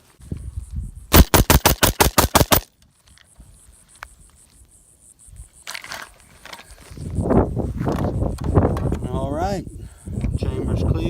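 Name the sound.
AR-15 rifle firing its remaining rounds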